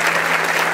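Dense audience applause at a civic event honouring outstanding Banderilla citizens, loud and steady throughout a brief burst, with a faint electrical hum beneath.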